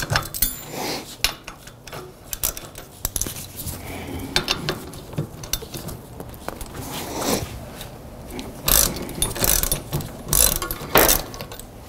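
A ratchet clicks and clatters while the wheel comes off a Sondors fat bike, giving irregular bursts of metallic ratcheting and tool handling with pauses between them.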